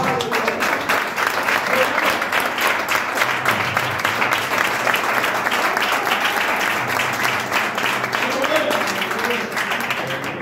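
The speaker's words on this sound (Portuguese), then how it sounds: "Então aplaude bem forte o nome do Senhor." A church congregation claps loudly and continuously during a communion service, a dense steady wash of applause filling the room for the whole stretch, with voices mixed in beneath it.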